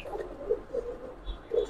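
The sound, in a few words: Shapchila Giribaz pigeon cooing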